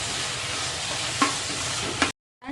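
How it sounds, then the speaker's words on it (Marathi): Loud, steady sizzling from a hot pan as soy sauce goes into frying cabbage Manchurian, with a couple of brief clinks near the end before it cuts to silence. "आता सोया सॉस टाकूया."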